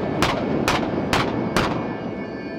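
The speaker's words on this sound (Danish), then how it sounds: "hvor vi har skudt med vores kanoner." Naval frigate cannons fire during an at-sea gunnery exercise: four loud, booming shots about half a second apart, each with a sharp crack over a continuous rumbling roar, and no voices.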